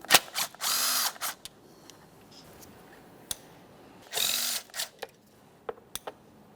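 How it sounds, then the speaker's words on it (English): Two mounting nuts on a 2003-2008 Toyota Corolla 1.8L engine cover removed with a power tool, two short whirring bursts with scattered clicks and clanks of hardware, close up. "So we'll start by removing our 2 mounting nuts"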